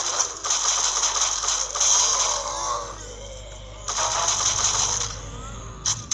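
Mechanical clicking and ratcheting of a gun being reloaded in the Zombie Frontier mobile shooter game, rattling in two loud bursts separated by a quieter pause.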